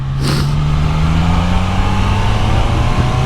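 A Triumph Daytona 660 motorcycle in sport mode, heard close up as the throttle closes: the engine note drops steadily from a loud rev into a lower, rumbling deceleration, with wind noise throughout.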